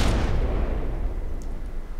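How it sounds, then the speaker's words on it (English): Heavy CRAM cannon shot in From The Depths, a loud booming blast with a long rumbling explosion that rolls on and fades slowly, no voices over it. "We now have waited, and let's fire."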